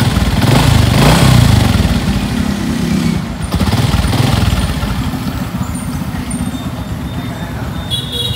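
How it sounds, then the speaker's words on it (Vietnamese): A 2007 Honda Future Neo motorcycle runs close by, its engine loud and even with a smooth steady hum that eases slightly after the first few seconds. "Máy cực kỳ êm tại."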